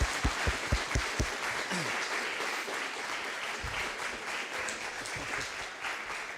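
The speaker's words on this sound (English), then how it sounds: "I think Elise deserves another applause. Well done" Moderate audience clapping after a hematology lecture on platelet disorders, a few sharp claps at first then a softer, steady patter, fairly quiet and somewhat distant.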